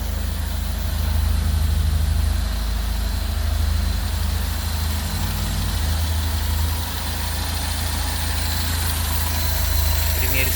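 A Fiat Uno engine fitted with a Weber 495 TLDF electronic carburetor idles in a steady, close, loud low rumble that holds evenly throughout with no revving.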